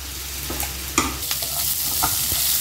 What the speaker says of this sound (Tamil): இதை இப்போ இதை நல்லா வதக்கிக்கலாம்.